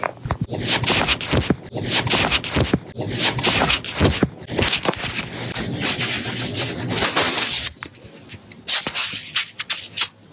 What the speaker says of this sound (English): It sounds like I'm rustling around, but I'm not.